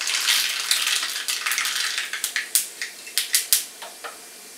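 Mustard seeds spluttering and popping in hot oil for a dhokla tadka, a rapid crackle that thins into separate sharp pops near the close, close up with no talk.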